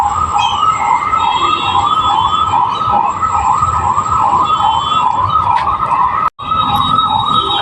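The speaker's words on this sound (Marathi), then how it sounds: "गाड्यांचा आवाज" An emergency siren wails in a steady rising-and-falling cycle over road traffic noise, loud and near, with a brief dropout near the end and no talking.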